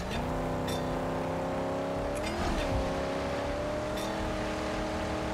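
A car engine revs steadily and loudly while driving in the Mad Max video game, a sustained drone with a brief pitch rise and dip midway.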